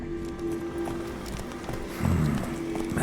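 Roach, a horse in The Witcher 3, gallops with steady clip-clop hoofbeats over continuous outdoor game ambience, which grows louder partway through.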